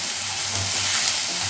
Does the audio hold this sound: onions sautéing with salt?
yes